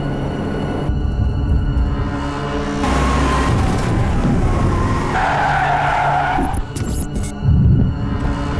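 A car skids hard during a film action scene, loud tire scrubbing and engine roar building through a long slide, with a high squeal and a heavy thump near the end, no talk over it.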